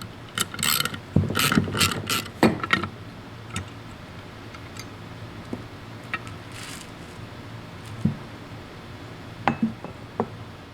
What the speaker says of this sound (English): take a 3/8 socket and remove these three bolts